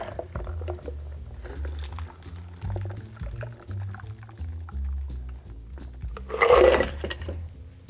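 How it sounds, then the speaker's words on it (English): A whiskey sour cocktail is fine strained into a glass, a short burst of liquid splashing through the strainer near the end over steady low background music, close and fairly quiet. "what we are going to do now is fine strain this"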